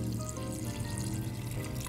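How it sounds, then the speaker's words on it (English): Water poured into a pressure cooker while cooking black-eyed peas, a steady close splashing pour with a low trickling rumble throughout, no voices. "So I'm just gonna put a little bit of water"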